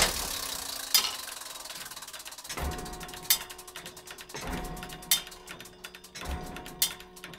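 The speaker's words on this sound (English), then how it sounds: "What you're hearing right now is the clock at Trinity College at the University of Cambridge, heard from the inside, from within the clock tower." Inside the clock tower of Trinity College, Cambridge, a large mechanical clock mechanism ticks and clunks close by in a steady, heavy rhythm of loud knocks about every second, with ratcheting and metallic gear noise between them.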